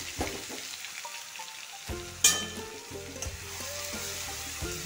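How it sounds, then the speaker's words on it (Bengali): A paste of onion, garlic, ginger and green chilli sizzles in a hot pan as it is poured in, with a sharp hiss burst and steady frying crackle plus scraping stirs. "এখন পেঁয়াজ, রসুন, আদা আর কাঁচা লঙ্কা পেস্টটা ঢেলে দিই।"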